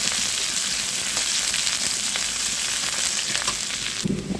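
Garlic and onion frying in spiced oil for a drumstick (sajna) curry, giving a steady, close crackling sizzle throughout that shifts briefly near the end.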